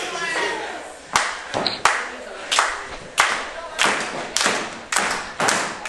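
A wrestling crowd at an iron man match claps in a loud, rhythmic unison. Sharp claps land about every half second, and each one rings out into the echoing hall.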